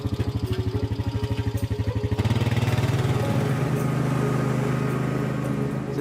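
A small lawnmower engine runs close by, first with a steady low pulsing idle, then rising to a louder, rougher roar that holds steadily to the end, with no talking.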